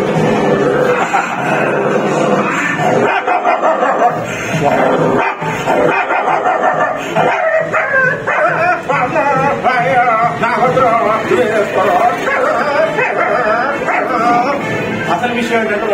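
A mimic uses his voice to imitate dogs barking, yipping and whimpering, loud and close, in a continuous string of dog sounds.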